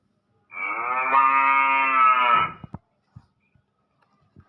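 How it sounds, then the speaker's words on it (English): A single long, loud cow moo from a card-reading learning toy sounds for about two seconds, followed by a few faint clicks. "cow"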